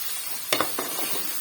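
Onion, ginger and garlic sizzling in a frying pan, a low steady hiss broken by a few quick stirring scrapes near the middle.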